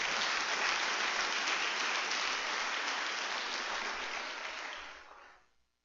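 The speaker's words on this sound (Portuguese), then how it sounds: "Dá um aplauso a Ele aí por isso." A church congregation applauds in a sustained, dense wash of clapping that holds steady for about five seconds, then fades quickly to silence, with no talking over it.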